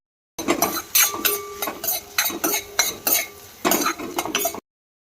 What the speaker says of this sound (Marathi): आपण कट केलेले दोडके ते आणि बारीक चिरलेली मिरची हे छान प्रकारे परतवून घ्यायचं